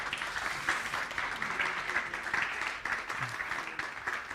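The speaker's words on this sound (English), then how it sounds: "Keep it going for them, everybody." Sustained audience applause at a London student television awards ceremony, a dense, even wash of clapping filling the room without pause, with faint voices mixed underneath.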